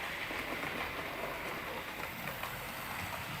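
A model railway C-Class locomotive climbs a hill on a layout, giving a soft, continuous rumbling rattle of wheels on track, faint and steady with no talk.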